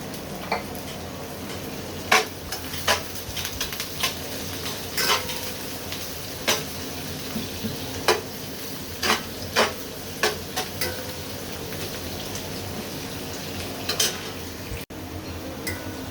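Sliced onions frying in oil and ghee in a pan for a Bengali beef chap dish, a steady soft sizzle with periodic scraping and stirring clinks of a utensil against the pan, no talking.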